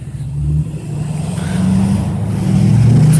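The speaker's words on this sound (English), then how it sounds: "It's like a never-ending traffic." Early morning traffic on a road, cars idling and rolling along in a steady low rumble that builds as engines pull away, loud and close.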